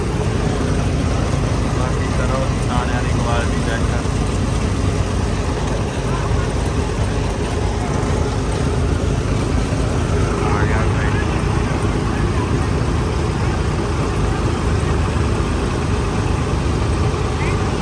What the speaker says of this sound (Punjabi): ਆ ਗਿਆ ਟਰੈਕਟਰ